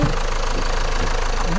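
A Renault Clio dCi diesel engine idles steadily after a stuck turbo vane was freed, giving a continuous low rumble with a faint knocking texture and no break.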